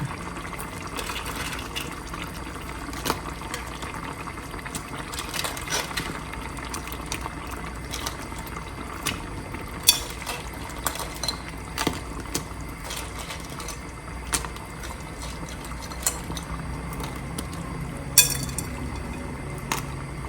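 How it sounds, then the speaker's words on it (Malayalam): A pot of Kerala-style crab curry bubbles at a boil, a soft continuous simmer broken by occasional small clinks and pops, close but quiet with no talking. "കറിയെല്ലാം ഒന്ന് തിളച്ച് വന്നിട്ടുണ്ട്."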